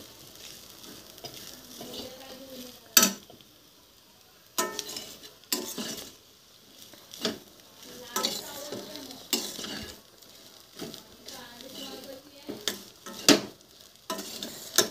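Grated coconut stirred and cooking in a pan with wild vegetable bhaji, a steady soft sizzle broken by sharp clinks and scrapes of a spoon against the metal at irregular intervals.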